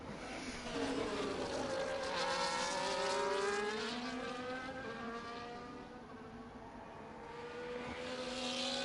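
F1 24 race cars howl past during an overtake, their engine notes rising and falling in sweeping pitch as they close and pull away, steady and moderately loud with no voices.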